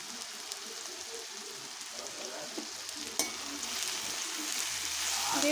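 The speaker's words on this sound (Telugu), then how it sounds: "ఇప్పుడు ఆనపకాయ ముక్కలు వేసుకుందాం." Bottle gourd pieces fry in a pan with salt and turmeric, giving a steady close sizzle with light stirring scrapes and a soft clack partway through, growing slightly louder toward the end.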